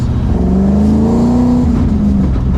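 A Ford Coyote V8 engine revs loud and close, its deep rumble rising and falling in pitch over a couple of seconds with no voices.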